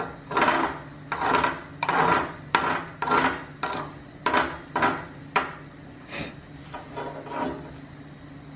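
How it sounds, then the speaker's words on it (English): Chipping slag off a dual shield flux core fillet weld on quarter-inch steel plate, about a dozen sharp metallic scraping taps in a quick irregular rhythm, close and fairly loud. "We're going to chip this slag and see if I got some wormies in there."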